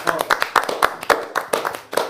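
A few people clap for a team in a cupcake-baking contest between Catholics and Evangelicals. The claps are close, loose and fairly rhythmic, with some chatter mixed in.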